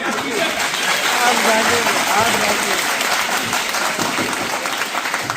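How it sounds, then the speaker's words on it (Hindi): Loud, sustained applause from a school audience at a district education and training institute gathering, dense clapping filling the whole stretch with a few voices mixed in. "जोरदार ताली"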